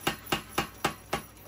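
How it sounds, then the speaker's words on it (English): A forging hammer strikes hot steel with the corner of the die while drawing out the heel of a small blade, giving five evenly spaced, sharp thuds in quick rhythm, fairly faint and without talk. "Go to the hammer and use the corner of the die to"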